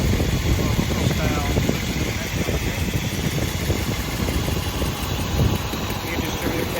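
The engine of a 1984 Mercedes 500 SEC idles with a steady, even mechanical chatter and hum, close and continuous, fitted with a new distributor cap, wires and spark plugs.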